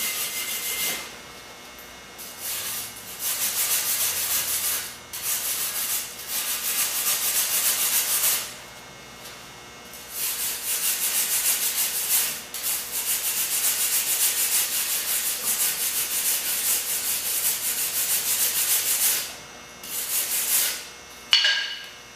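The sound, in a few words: brush scrubbing clean a jumper-cable weld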